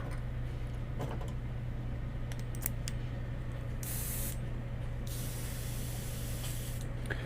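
An aerosol spray gun lays opaque white paint over faded silver, a steady close hiss running throughout with two louder bursts of spray midway, over a low constant hum.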